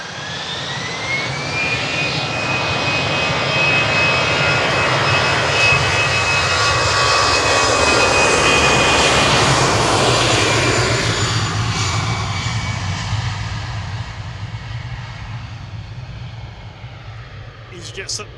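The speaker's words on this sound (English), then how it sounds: "Is Aer Lingus 930 from Bridgetown, A330-300." An Aer Lingus Airbus A330-300 jet airliner arrives at Manchester Airport with a loud, sustained roar. A high whine rises early, the roar swells at mid-clip as it passes close, and it then gradually fades.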